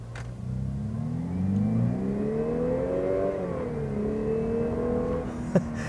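A 2019 Lexus RC 300 F-Sport engine revs up steadily, its pitch climbing, dipping briefly and climbing again, moderately loud with no talking.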